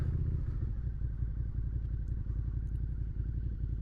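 A 2017 Suzuki SV650 motorcycle idles as it pulls over to the roadside, its twin-cylinder engine a loud, steady low throb close by, with no talk.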